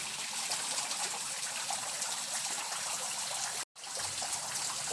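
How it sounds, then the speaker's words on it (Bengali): Water pours from many sides of an artificial waterfall at Mayapur, a steady, fairly faint broadband rush with a brief dropout near the end. "এটা এক প্রকারের ঝর্ণা হয়ে গিয়েছে, এখানে অনেক দিক থেকে জল পড়ছে"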